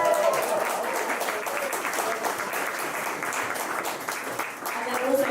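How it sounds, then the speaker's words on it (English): An audience at a SaaS leaders sales panel claps for the panel, a dense, steady wash of applause with voices mixed in, loud and continuous throughout. "We have a big applause from our panel."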